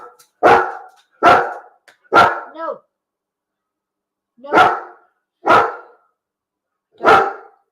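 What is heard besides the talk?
dog barking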